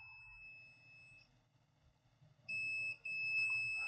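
A continuity tester on a shorted circuit board gives out a steady high-pitched beep. It sounds once, stops, and then sounds again with a brief gap in the middle, faint and close against a low hum.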